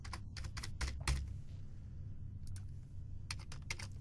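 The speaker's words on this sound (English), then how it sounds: "I'll just have to type this by hand" Fingers tapping on a computer keyboard at a desk, quiet and close, in short uneven bursts of keystrokes separated by pauses, with no talking.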